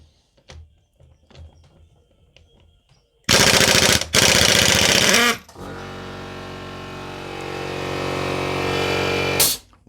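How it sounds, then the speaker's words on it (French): A cheap pneumatic impact wrench fed by an air compressor hammers in a loud, dense rattling burst for about two seconds, then the compressor motor drones steadily and loudly until it cuts off. "la clé à choc y arrive plus facilement sans la rallonge"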